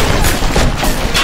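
Gunshots in the video game Bioshock, loud, dense back-to-back blasts filling the whole moment with no voice over them.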